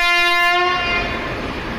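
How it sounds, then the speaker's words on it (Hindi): Horn of the New Delhi to Jalandhar Express at a railway station, one loud, tonal blast cutting off after under a second, followed by rumbling train and platform noise, close by. "नई दिल्ली जलंधर एक्सप्रेस।"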